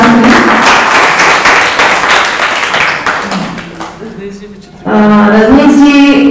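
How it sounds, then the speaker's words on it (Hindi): Audience applause for an actor and painter at the closing ceremony of a national art camp in Rajasthan, a loud burst of clapping that fades, then a voice speaks briefly over a low tone before another loud surge. "मैं इनके लिए एक बार जोरदार तालियां चाहूंगी।"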